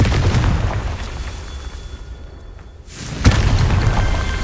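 In the Hogwarts Legacy video game, a Confringo spell sets off fiery explosions: deep booming bursts with rumbling tails, one sharp loud blast near the end after a brief lull.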